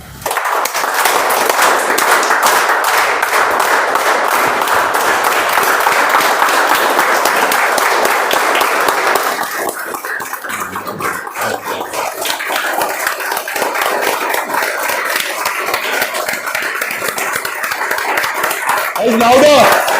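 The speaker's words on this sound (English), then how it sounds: "Guys, can we have a round of applause in the style that I requested?" Sustained applause from an audience at a speech contest event, dense steady clapping that shifts character midway into a different requested style, continuing loud and close throughout with voices mixed in.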